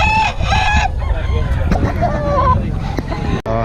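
A rooster crows loudly up close while chickens cluck and squawk around it at a chicken market in Bocaue, with a crowd of voices in the background.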